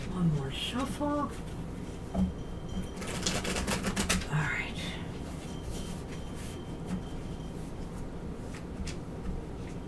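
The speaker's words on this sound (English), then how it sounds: "One more shuffle." A deck of tarot cards is shuffled once, giving a soft rustling riffle around the middle of the recording. Quiet talk and low room noise continue around it.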